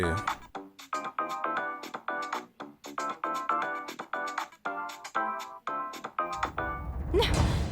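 A melodic phone ringtone plays continuously, a bright repeating tune of quick notes, ending with a rustling clatter.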